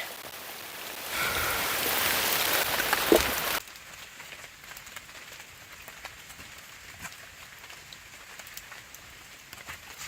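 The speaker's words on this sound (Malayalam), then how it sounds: "മഴയാണ്" Rain pours loudly for a few seconds as a dense hiss, then abruptly drops to a softer patter with scattered drips for the rest, in a forest in Wayanad.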